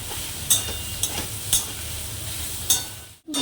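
Boiled potatoes are stirred in a pan on a gas stove, with a steady low sizzle and a few sharp scrapes of the spoon at uneven intervals, close and alone without talk.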